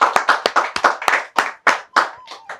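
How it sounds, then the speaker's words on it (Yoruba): Audience applause on the Yoruba game show Masoyinbo, heard as about a dozen sharp, distinct hand claps in an uneven rhythm, close and fairly loud with no talking. "Ẹ bá ń pàtẹ́wọ́ fún wọn."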